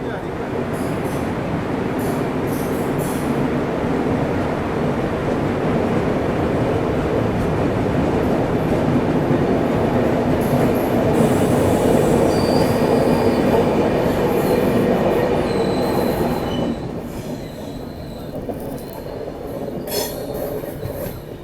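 Jabalpur Mumbai Garib Rath express train running, with a steady loud rumble of wheels on rails, occasional squeals and clatter, heard from on board and easing slightly near the end.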